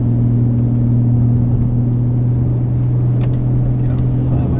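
2001 BMW 750iL with a Dinan-tuned V12 cruising, a steady low engine drone with constant tones and road rumble heard from inside the cabin, someone talking over it.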